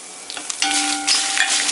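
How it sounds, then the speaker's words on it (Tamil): Coriander seeds, lentils, dried chillies and cumin roasting in sesame oil in a pan, a close, soft sizzle with brief stirring scrapes and no talking. "இந்த கொத்தமல்லியும் பருப்பும் 1 நிமிஷம் பாதி வறுபட்டு இருக்கும்போது இந்த மிளகாயும் சீரகமும்"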